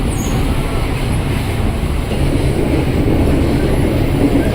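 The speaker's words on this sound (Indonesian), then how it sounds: "Wah, kita ketemu sama KRL Cikarang juga tuh." A KRL commuter electric train bound for Cikarang passes close by near Matraman station in Jakarta, a loud steady rumble and rush of wheels on rails.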